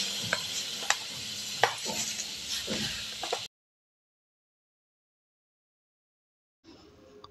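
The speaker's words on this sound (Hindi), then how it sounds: "ये सूजी को घी में अच्छे से रोस्ट कर रही हूँ" Semolina roasting in ghee gives a dry, gritty stirring scrape with a light sizzle and several sharp spoon knocks on the pan. A long stretch of silence follows, then a faint return of the sound.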